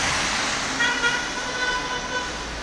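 Street traffic on Abu Qir Street in Alexandria's Laurent district, a steady wash of passing cars with a few horn toots standing out, heard from a first-floor apartment above the road.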